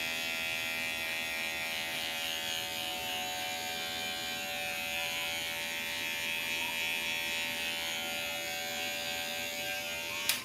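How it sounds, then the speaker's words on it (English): Electric hair clipper buzzing steadily and close during a beard trim, running through the lower beard as a continuous even hum with a faint click at the end. "run through with the clipper real fast on the bottom"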